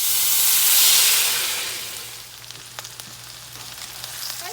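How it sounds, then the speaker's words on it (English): Food hitting a hot frying pan for a country supper, a loud burst of hissing sizzle that swells and then settles into a quieter crackle with scattered pops, close up and with no talking. "make a big sizzle"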